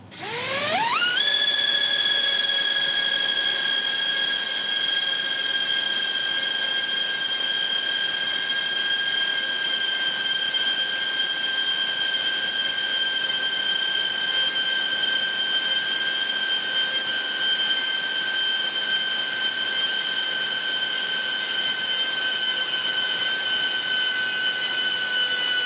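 Electric drone motors spin up hard on an ESC heat test bench, a loud steady whine with several sharp rising tones that climb at the start and then hold level for the whole stretch, unbroken and close.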